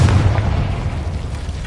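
Explosion from a Confringo blasting curse in Hogwarts Legacy, a loud, deep boom that starts at once and fades into a rumbling tail, heard close up.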